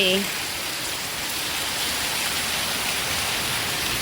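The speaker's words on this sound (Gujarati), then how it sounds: "હજુ વરસાદ પડવા માંડ્યો છે." Steady rain pours down outdoors under dark clouds, a dense, even hiss that stays loud and constant throughout, with a brief voice right at the start.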